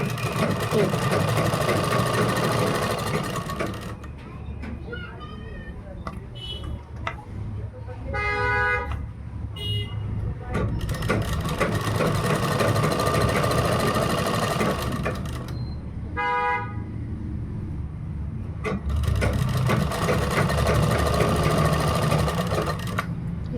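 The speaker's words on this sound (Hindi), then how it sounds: "इस तरह से पूरे में सिलाई लगाएंगे।" A sewing machine stitches all around the flared panel of a kurta cut from a dupatta, running in long loud bursts separated by short pauses with faint clicks and a tone or two in between.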